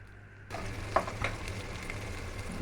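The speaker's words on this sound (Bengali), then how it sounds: "দিয়ে এবার কিছুক্ষণ নাড়াচাড়া করবো যাতে কাঁচা গন্ধটা চলে যায়।" Ginger, garlic and cumin paste hitting hot oil, a soft hiss that swells into steady frying with a few light stirring clinks, fairly quiet and close.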